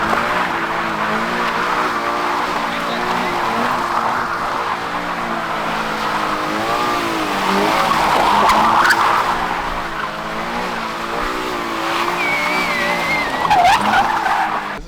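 A JDM car engine revs hard as tires squeal and skid repeatedly, the screeching swelling and fading, while a person speaks briefly over it.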